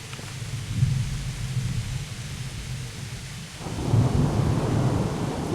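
A thunderstorm in Kingdom Come: Deliverance: steady heavy rain hisses throughout while deep thunder rumbles near the start and swells again later, low and rolling.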